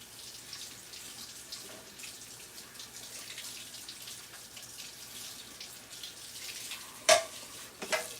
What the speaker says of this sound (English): I'm gonna go rinse it, okay?